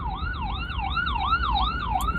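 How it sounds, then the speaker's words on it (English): An emergency vehicle siren wails in a rapid, regular up-and-down sweep, repeating several times at a moderate distance over low traffic rumble, with no talking. "Excuse the sirens."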